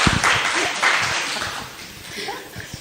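Clapping during a conversation about the author Paula Saunders, a brief spatter of hands mixed with voices and light chuckles throughout.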